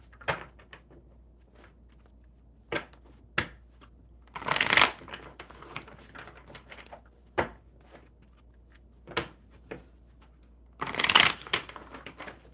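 Oracle cards being shuffled by hand at a table: repeated short papery riffles and flutters in irregular bursts, a few longer louder cascades, close and clear against a quiet room.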